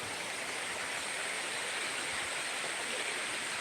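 Heavy rain pours steadily in a hot, sun-baked town after a dry spell, a dense, even broadband hiss with no breaks, fairly loud and close, with no voices over it.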